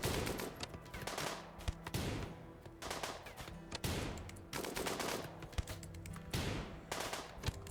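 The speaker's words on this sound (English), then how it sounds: "I think we're out of range for this machine gun." Machine gun fire in the video game Rimworld, repeated bursts of gunshots over a dense, steady background of game sound, fairly faint in the mix.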